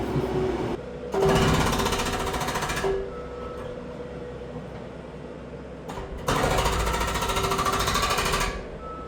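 A jackhammer pounds concrete in two long, loud bursts, the second nearer, with a lower mechanical rumble continuing in the pauses between them.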